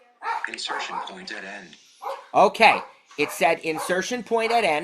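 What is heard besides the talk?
puppy barking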